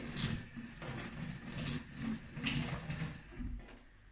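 Tap water runs onto a non-scratch sponge held under the stream, giving a soft, uneven splashing that swells and dips in short pulses for a few seconds.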